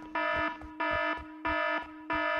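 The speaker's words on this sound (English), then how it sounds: "Turn the alarm off!" Loud electronic alarm in a horror video game, ringing in four evenly spaced harsh buzzing bursts with short gaps, steady and alone with no talk.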